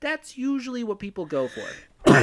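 An abrupt, loud sneeze bursts out right after a man's speech, a single sharp explosive burst at the very end.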